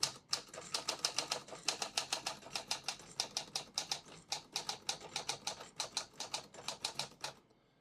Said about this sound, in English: I'll type a sentence on this next line.